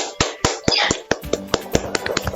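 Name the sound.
class applauding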